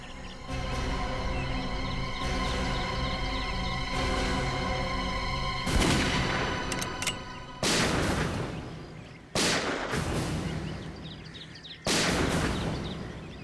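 Gunshots from a TV crime drama: a sustained staccato burst of gunfire over a droning background, followed by several loud, sharp, separate blasts at irregular intervals, close and forceful.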